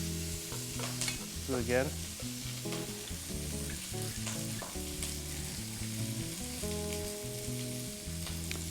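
Kale cooks in a pan with bacon, giving a steady, close frying sizzle with some stirring, while a voice speaks briefly over it.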